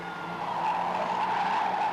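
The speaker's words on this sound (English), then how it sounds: "Number 8 gracefully spins out there." A race car spins out during an enduro stock car race at Hednesford Raceway in 1999, tires skidding in a sustained, loud squeal that holds steady with engine noise underneath.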